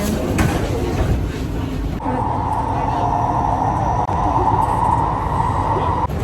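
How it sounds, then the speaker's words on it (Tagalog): A steady rumbling roar of a moving train, with a continuous mechanical drone and rattle throughout, shifting in tone partway through. "Sakay kami ng tren."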